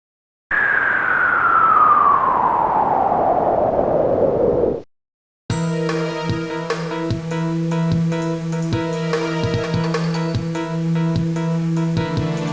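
Police car sirens in the video game Spider-Man: The Sinister Six wail and slowly wind down in pitch, then cut off and give way to rhythmic electronic music.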